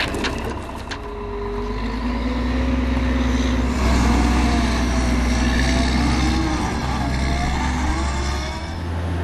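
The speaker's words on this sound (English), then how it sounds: "The groomer shifts the snow to where it's needed" Snow groomer working a steep ski slope while secured by a steel cable, a loud continuous deep engine drone with shifting tonal whine, steady throughout and close.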